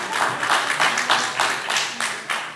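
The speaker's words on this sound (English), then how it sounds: "give the Lord a hand clap" A church congregation claps in a loose, roughly regular rhythm, about two beats per second, moderately loud in a reverberant room, with faint voices underneath.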